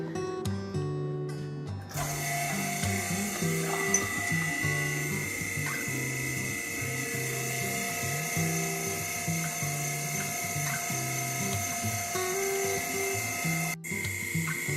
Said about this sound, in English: We run the vacuum for about 20 minutes